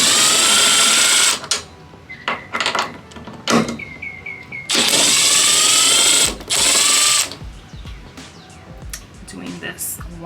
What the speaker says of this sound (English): All right, now I'm gonna take these nuts off up here.